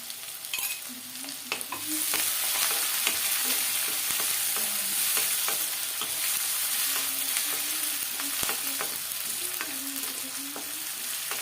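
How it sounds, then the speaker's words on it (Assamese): Spice paste for an Assamese-style duck curry fries and is stirred in a pan, with a steady sizzle and repeated scraping strokes of the spoon close by, with no one speaking. "এতিয়া মছলাখিনি অকণমান ভাজি লোৱাৰ পিছত আমি অকণমান ভাজি ল'ব লাগিব।"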